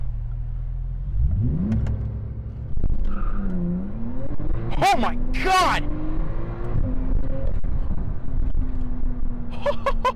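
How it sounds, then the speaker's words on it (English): A Porsche 911 Turbo S launches hard from a brake-held start, its engine surging into a loud rising roar with sharp upshifts as the car pulls away, up close from inside the cabin with a voice exclaiming over it. "All right, we're gonna launch the car."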